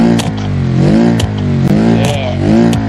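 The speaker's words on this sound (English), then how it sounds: "We broke the exhaust, and the engine is damaged a little bit." In BeamNG.drive, an SPR4 with a broken exhaust and slightly damaged engine revs hard, its raspy, loud note rising and falling with crackling pops and sharp clicks over a continuous drone.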